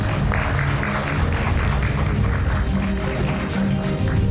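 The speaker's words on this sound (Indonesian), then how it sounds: "Boleh tepuk tangan." Studio audience applauding on a live Indonesian TV talk show stage, a dense, steady wash of clapping that holds at even loudness throughout.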